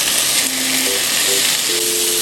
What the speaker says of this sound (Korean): 올리브오일 1스푼, 마늘하고 베이컨 먼저 볶아줄게요.